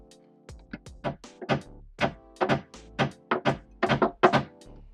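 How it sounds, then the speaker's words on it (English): A rapid series of sharp metallic taps and thunks as a screw is hammered to mark metal on a vintage Porsche 911, about a dozen close-up strikes in quick irregular rhythm, with no talking. "I'm just using a screw so I can give this thing a whack"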